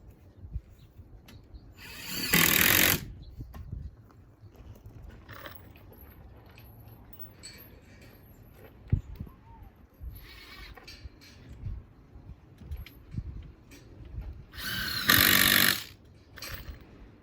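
A power drill driving screws into wood whirs in two short bursts several seconds apart, with quieter handling and clunking noises in between.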